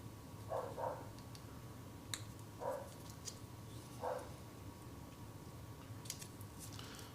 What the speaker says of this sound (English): Well, the dogs are excited outside.